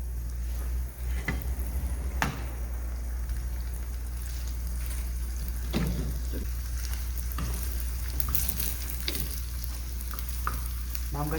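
Tteokgalbi patties sizzle steadily in a hot frying pan while being pressed into shape, a continuous close frying hiss with occasional scraping and tapping, no talk.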